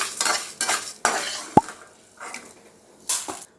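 Urad dal dry-roasts in a kadai, with several short bursts of stirring scrapes and rustling grains against the metal pan and one sharp clink of the ladle, separated by near-quiet pauses.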